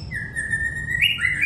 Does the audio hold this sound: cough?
no